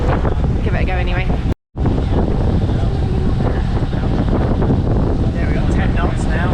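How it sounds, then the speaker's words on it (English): Strong wind buffeting the microphone aboard a sailboat, a loud continuous roar with a brief dropout, a voice speaking underneath. "It's probably too windy to hear me"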